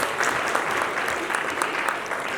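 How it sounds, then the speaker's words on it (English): Steady, dense applause from an audience at a tourism and investment forum in Dubai, many hands clapping continuously and loudly for the whole stretch. "Big round of applause, ladies and gentlemen,"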